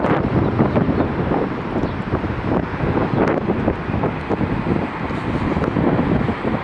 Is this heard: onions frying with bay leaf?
no